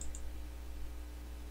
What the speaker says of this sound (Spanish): Luego damos clic en donde dice Nueva Terminal.